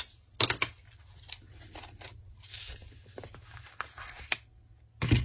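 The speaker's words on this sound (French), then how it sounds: "Je vais prendre mes ciseaux." Several crisp scissor snips, each a short sharp crunch, with pauses between cuts and quiet rustling in the background.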